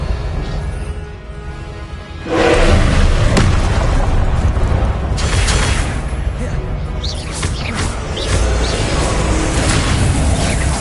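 Confringo blasting spell explosions in the video game Hogwarts Legacy, a loud booming burst followed by sustained rumbling blasts and crackling effects, with a voice shouting spell names.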